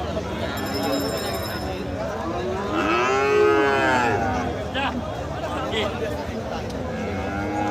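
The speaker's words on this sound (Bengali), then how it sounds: "দেখছেন প্রচুর পরিমাণের গরু আমদানি" Cattle moo loudly at a busy outdoor livestock market, one long low call standing out midway, with crowd chatter and general bustle underneath.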